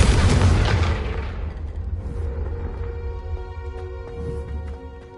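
Confringo spell explosion in the video game Hogwarts Legacy: a loud, close, booming blast that rumbles and decays over about two seconds, then gives way to a softer tonal game backdrop.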